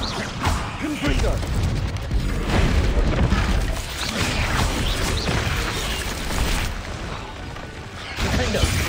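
Confringo blast spell in Hogwarts Legacy booms and crashes repeatedly amid dense combat noise, with loud rumbling impacts throughout and a voice calling out over the fray.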